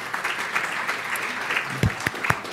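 An audience at a press announcement by the New York attorney general applauds, a steady crowd clapping with a few sharper individual claps standing out near the end.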